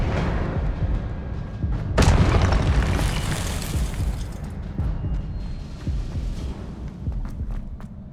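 A Confringo blasting spell in Hogwarts Legacy bursts with a sudden, loud explosive crack followed by a rumbling boom that slowly fades, and softer thuds keep sounding afterward.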